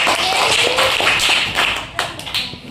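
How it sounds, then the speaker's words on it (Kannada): Schoolchildren in a classroom maths game clap loudly together, a dense burst of applause that thins slightly toward the end. "ಜೋರ ಚಪ್ಪಾಳೆ ಮತ್ತೆ"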